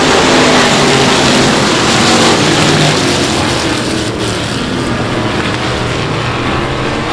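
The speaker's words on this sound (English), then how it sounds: "There's your racing starting right now" Race cars at South Texas Speedway roar away at the start of a race, a loud, dense and continuous engine wash with no break.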